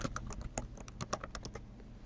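Rapid, uneven keystrokes on a computer keyboard as a pharmacy name is typed into e-prescribing software, close and crisp over a low room hum.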